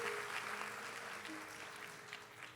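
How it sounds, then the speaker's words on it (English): A graduation audience applauds in a sustained wash of clapping. The sound is faint and distant, and it tapers slightly toward the end. "I think that deserves a round of applause."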